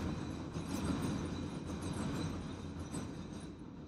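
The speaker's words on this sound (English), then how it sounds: "as the New York City subway goes by" New York City subway train passing close by as a loud, continuous roaring rumble with rail clatter. It holds steady for a few seconds, then begins to ease off.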